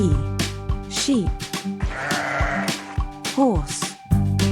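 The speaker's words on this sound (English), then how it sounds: "Sheep. This is sheep." Sheep bleat repeatedly on a farm, several wavering, drawn-out calls close and fairly loud, with short gaps between them.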